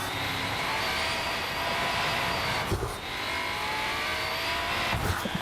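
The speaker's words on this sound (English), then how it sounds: "Peak engine sound." Racing car engine in the driving game Test Drive Unlimited Solar Crown, a steady loud roar that holds through the clip with brief dips, as if shifting or lifting off the throttle, and no talk over it.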